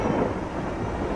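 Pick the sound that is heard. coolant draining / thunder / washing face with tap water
thunder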